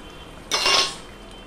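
A single short scrape of a utensil through pabda fish curry in a pan, a brief bright clink and swish lasting about half a second, close and fairly quiet.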